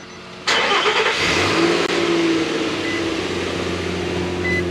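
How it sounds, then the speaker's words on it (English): A 2011 Toyota Sienna engine cranks and catches with a sudden loud start, then settles into a steady, close idle with a brief rev, running alone without talk. "You start up your car."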